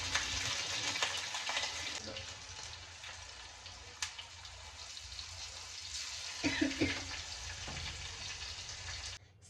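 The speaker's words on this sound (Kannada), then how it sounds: "ಈಗ ಒಗ್ಗರಣೆ ರೆಡಿ ಮಾಡ್ಕೊಳ್ಳೋಣ" Sizzling and crackling of tempering spices frying in hot oil, a steady hiss with a few sharp pops, close by and without talk.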